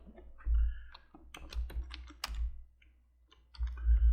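Keys clatter on a computer keyboard in short irregular bursts of clicks, close up, with brief pauses between flurries.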